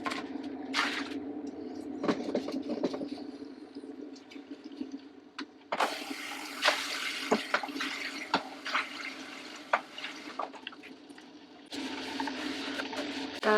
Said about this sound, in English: So hot water is going on.